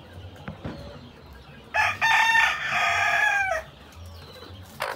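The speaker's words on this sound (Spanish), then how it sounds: "Ya están los gallos aquí" A rooster crows once, loud and close, in a long drawn-out call among penned chickens, with quieter clucks and bird sounds before and after.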